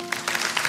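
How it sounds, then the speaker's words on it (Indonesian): Church congregation clapping during a healing-themed service, a short steady patter of hands in a reverberant hall, moderately loud and continuous. "Kasih tepuk tangan untuk Tuhan."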